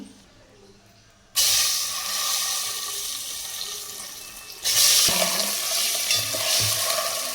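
Eggs sizzle and fry in a pan with turmeric, starting as a quiet bubbling and then jumping to a loud, bright hiss that swells again partway through, with occasional scraping stirs.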